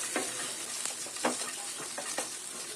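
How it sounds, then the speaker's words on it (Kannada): Peanuts and fresh and dried coconut dry-roast in a pan, a spatula scraping and stirring in several short, distinct strokes over a soft, steady background hiss, with no talking. "ಅದರಲ್ಲಿ ಹಸಿ ತೆಂಗಿನಕಾಯಿ ಹಾಕೋತಾ ಇದ್ದೀನಿ. ಒಣಗಿರೋದು ತೆಂಗಿನಕಾಯಿ ಇದೆರಡನ್ನು ಹುರ್ಕೋತಾ ಇದ್ದೀನಿ."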